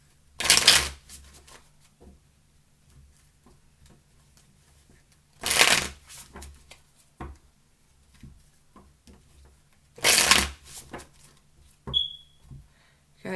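Tarot cards are riffle-shuffled three times, each a loud, crisp burst of fluttering card edges about five seconds apart, with quiet room tone and soft handling noises between them.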